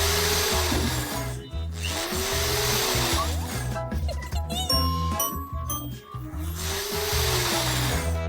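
Bursts of a power screwdriver whirring as screws are driven to fasten bed parts together, several rising-and-falling motor runs with short gaps, plus light clinks of hardware between them.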